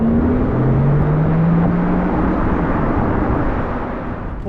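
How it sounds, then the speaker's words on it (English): Porsche Taycan 4S Cross Turismo electric sport sound while driving: a smooth synthetic tone rising in pitch over a loud, steady road and motor rumble that eases slightly toward the end. "Porsche Sport electric sound makes the emotional experience for me in this car."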